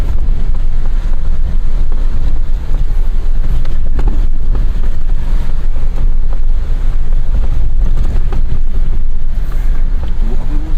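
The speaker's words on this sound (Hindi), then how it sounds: "पानी का फ्लो देखो।" A mountain river flows fast and loud along an off-road route near Dharchula, making a dense, constant rushing roar with wind buffeting the microphone.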